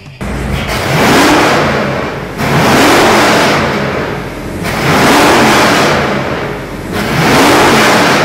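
A Nelson Racing Engines V8 with eight individual throttle bodies and coil-per-cylinder ignition, blipped hard in four loud revs that swell and fall back in a regular rhythm, close and aggressive.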